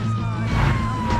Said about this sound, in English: If you hear sirens,